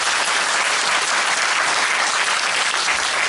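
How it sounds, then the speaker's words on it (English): A seminar audience on Ladakh's opportunities and challenges breaks into dense, steady applause, a loud, even wash of many hands clapping continuously with no pauses and no voices. "Please give them a huge round of applause"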